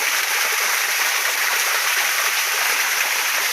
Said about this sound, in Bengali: ঝর্ণাটা কত সুন্দর আওয়াজ করতেছে